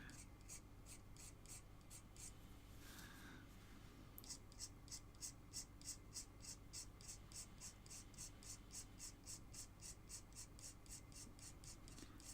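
A chisel scrapes across a wooden scraperboard in repeated, rhythmic strokes. The sound is faint and close, with a regular rasping pulse that starts after a short pause.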